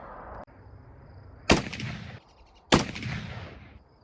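Two loud, sharp rifle shots from a .450/400 Nitro Express double-barrel rifle ring out about a second apart outdoors, each with a booming report and a long decaying echo.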